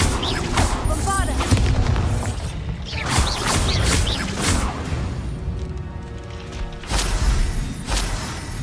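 A Bombarda spell explosion in the Hogwarts Legacy video game: booming blasts and crashing impacts in a busy game fight, with magical whooshes and a voice heard among the noise.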